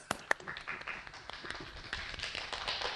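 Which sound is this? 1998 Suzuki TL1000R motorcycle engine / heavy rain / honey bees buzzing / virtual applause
virtual applause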